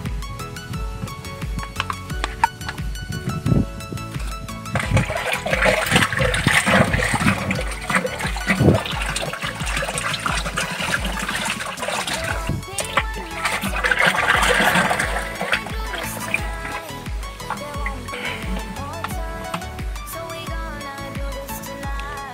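Hydroponic nutrient solution for growing mustard greens is stirred in a tub of water, giving a continuous sloshing and splashing that swells twice and runs steadily for about twenty seconds with no talk.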